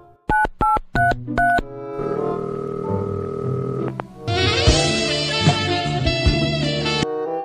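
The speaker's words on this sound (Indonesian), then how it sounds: "Gue telepon dulu dah." Phone keypad tones beep in five quick separate presses, then a steady ringing call tone carries on for several seconds before other sound joins in, all clear and close.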